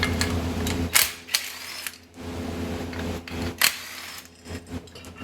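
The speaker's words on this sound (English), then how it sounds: "We're going to pop those two nuts, they are 14 millimeters" Ratchet or power tool working 14 mm nuts on a Subaru STi motor mount, short bursts of mechanical whirring and clicking in an uneven rhythm, close up with gaps between pulls.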